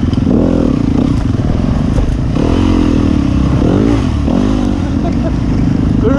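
An off-road motorcycle at the 2019 Smuggler Run in Capital Forest churns through mud, its engine close and loud, rising and falling in repeated revving surges with clattering and splashing underneath.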